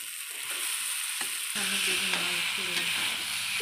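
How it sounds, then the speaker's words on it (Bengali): Meat drops into a hot pan of spiced oil and is stirred with a ladle. Quiet scraping gives way to a sudden loud, close sizzle that keeps hissing steadily, with light stirring clinks. "মা হাতা দিয়ে উঠিয়ে মাংসগুলোকে দিয়ে দিচ্ছে।"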